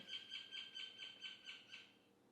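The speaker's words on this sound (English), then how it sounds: "Sorry, I like listening to the birds." A bird sings a quick, repeated series of high chirps outdoors, about eight notes in a steady rhythm, fairly faint and alone.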